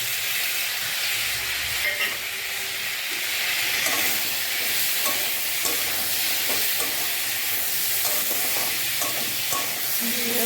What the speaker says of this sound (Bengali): দিয়ে ভালো করে কষে